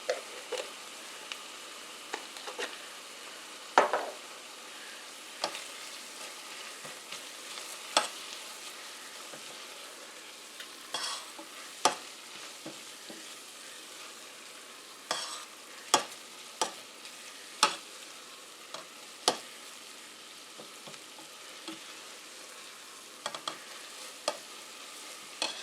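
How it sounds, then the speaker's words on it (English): Garlic sautéing in a pan for creamy tomato soup, a quiet steady sizzle with scattered spoon taps and stirring clatters spread across the stretch, close and with no voices. "We're going to add about a tablespoon of garlic, and we're going to let that go for about another minute."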